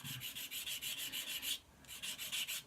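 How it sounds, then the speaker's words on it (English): A small sander works on a part from a 1/72 Airfix Hawker Siddeley Harrier GR.3 kit, with quick rhythmic rasping strokes, close and soft, pausing briefly before a second burst. "just let the sander do the work. Don't put any pressure on it."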